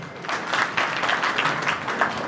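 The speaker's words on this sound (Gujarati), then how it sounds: "જોરદાર તાળીઓ." Audience applause at a Dodiya family community get-together in Chotila, steady crowd clapping that holds for a couple of seconds at moderate loudness.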